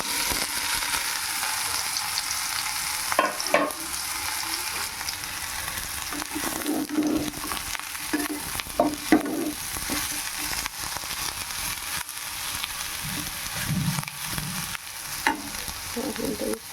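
Soybean chunks fry in a pan with a steady, close sizzle while a utensil stirs and scrapes, giving intermittent knocks over the continuous hiss.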